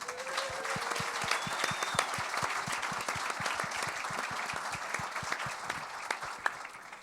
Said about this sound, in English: Can we have a round of applause for Money Mark